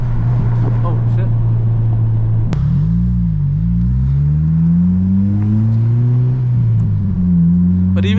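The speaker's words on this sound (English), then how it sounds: "This car sounds so good." An 8th-generation Honda Civic Si with a Hondata FlashPro tune accelerates hard through the gears, its engine note climbing in pitch, dropping at a shift, then rising again, loud and close from inside the cabin.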